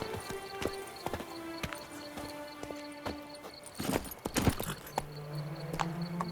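Roach the horse gallops in The Witcher 3: Wild Hunt: a rapid, steady clip-clop of hooves, close and clear, over a background game score, with a brief cluster of heavier impacts partway through.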